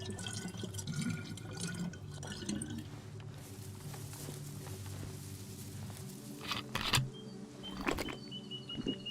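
Water trickles and drips while a water bottle is filled in the DayZ video game, a soft continuous liquid patter with a few sharper splashy bursts near the end, heard alone at moderate level.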